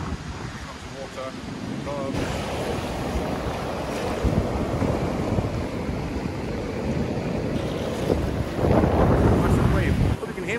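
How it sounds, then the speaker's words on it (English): Ocean waves break on a beach in rain and wind, a steady rushing surf under heavy wind buffeting on the microphone, with the roar swelling louder toward the end. "Massive wave."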